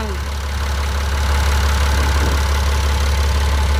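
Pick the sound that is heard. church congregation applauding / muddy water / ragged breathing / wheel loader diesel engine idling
wheel loader diesel engine idling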